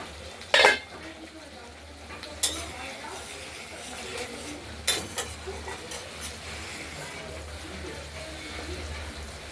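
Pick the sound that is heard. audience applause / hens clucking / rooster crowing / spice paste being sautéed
spice paste being sautéed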